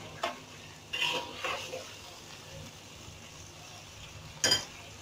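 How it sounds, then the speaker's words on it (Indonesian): A spoon scrapes and clinks in a pot of jengkol and tempe stew, a few short stirring strokes and knocks over a soft background bubbling and sizzle, with no talk. "Nah, udah mendidih."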